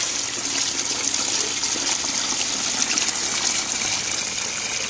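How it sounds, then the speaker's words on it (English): Melted beeswax pours through a coarse household strainer in a steady, continuous liquid gush, close and fairly loud, with no pauses over the few seconds. "I'm going to pour it right through the strainer. It's just a coarse household strainer."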